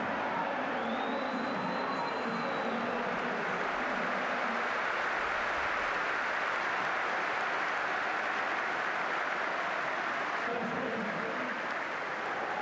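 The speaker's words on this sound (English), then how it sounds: "A minute's applause took place in tribute to the lives of Margot MacDonald and Sandy" A stadium crowd applauds steadily for a full minute in tribute before a Hearts versus Hibernian derby, a dense, continuous wash of distant clapping with no single voice standing out.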